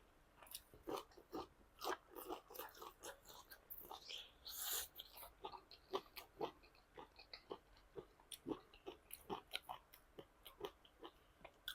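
Close, quiet chewing and biting of vegetables with shrimp paste chili dip: repeated crisp crunches and wet mouth sounds in an irregular rhythm, with one louder crunchy burst midway and no talking.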